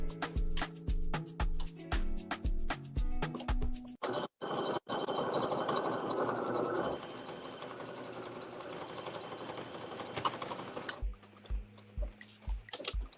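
A sewing machine closes the bottom of sweatshirt cuffs for a Minnie Bow sweatshirt, running in a loud steady whir for several seconds after a few short starts. Clicks and brief pauses come before and after the run.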